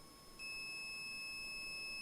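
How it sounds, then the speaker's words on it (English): A small camera used for filming a model railway driver's view gives a single steady electronic beep as it is switched off, starting after a brief quiet moment and holding clear and unbroken to the end. "to turn the camera off, you push that and hold it until it beeps"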